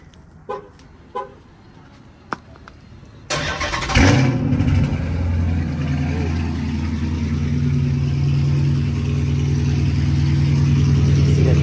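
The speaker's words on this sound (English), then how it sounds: "Get this good old cold start in right quick." Cold start of a Dodge Challenger SRT 392 Scat Pack: a few faint clicks, then the V8 fires with a sudden loud roar and settles into a deep, steady, rumbling idle up close.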